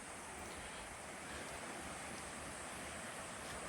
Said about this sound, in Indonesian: Mungkin kita sudah mendengar suara sungai